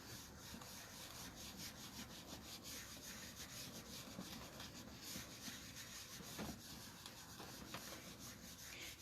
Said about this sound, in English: I'm going to start off here, and I'm going to just rub